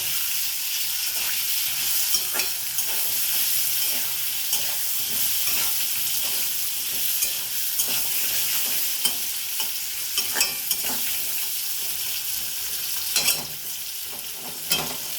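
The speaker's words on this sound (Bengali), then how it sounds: "আলুগুলো ভালো করে ভেজে নেব" Potato pieces seasoned with salt and turmeric fry in a pan under a constant sizzle, while a spatula scrapes and clacks against the metal in irregular strokes throughout.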